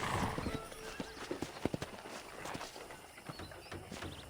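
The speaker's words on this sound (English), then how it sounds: "let's see if you can still ride a horse" Horse hooves clip-clop in a quick, uneven rhythm on a hard surface in a video game, fairly faint, with a brief whinny near the start.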